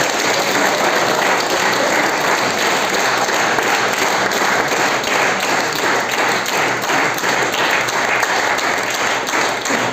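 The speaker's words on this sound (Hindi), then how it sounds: "तो तालियां तो होनी चाहिए ना।" An audience at a business seminar breaks into dense, continuous clapping that runs loud and unbroken throughout, crowd-wide rather than a few hands.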